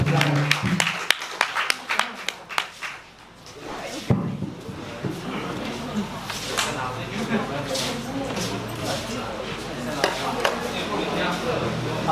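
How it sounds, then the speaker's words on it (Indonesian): An audience applauds Pak Niko at a company gathering: a few scattered claps at first, then a sustained, dense round of clapping that continues steadily to the end, with a voice speaking over it. "teman-teman kasih tepuk tangan yang meriah untuk Pak Niko sama Pak Niko dong"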